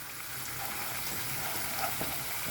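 Half a teaspoon of asafoetida powder sizzles in hot oil over a high flame for a bottle gourd curry. The frying hiss is loud, close and unbroken, with no voices.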